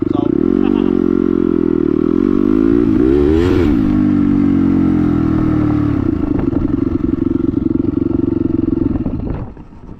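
A turbocharged dirt bike engine, covered in debris after an offroad ride, starts and revs. It idles loud and close with one sharp rev in the middle, then runs with a rough clattering burble until it cuts off near the end.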